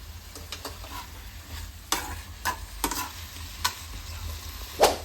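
Food being stirred as it fries in a pan, with a low steady sizzle and a series of distinct utensil scrapes and taps, the last one loudest.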